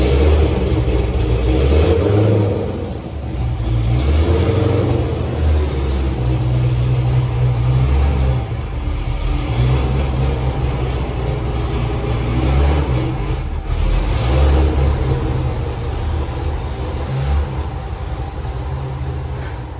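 Cold start of a C5 Corvette's LS V8, a loud, deep, steady idle with a few revs that rise and fall over about twenty seconds.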